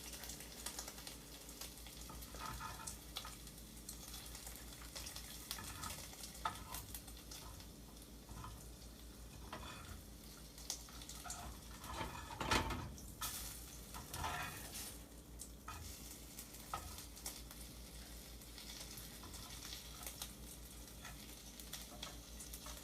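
Bacon for a breakfast burger frying on a stovetop, a continuous crackling sizzle with intermittent spatula scrapes and one louder clatter midway, no one talking.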